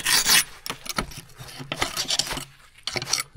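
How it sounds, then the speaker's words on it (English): A metal tool scrapes dirt off the blade of a John Deere 450 dozer, a series of short, loud, gritty rasping strokes close by with no talk. "A bit of dirt to scrape off behind here."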